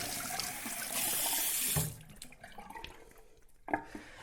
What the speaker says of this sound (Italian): Mi vado a sciacquare il viso con un po' di acqua fresca perché ho caldo.